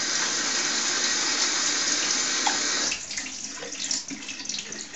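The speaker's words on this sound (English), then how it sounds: "Rinse your salad." Tap water gushing over salad being rinsed in a sink, a steady hissing stream for about three seconds that then breaks into splashier, uneven sloshing as the leaves are moved under it.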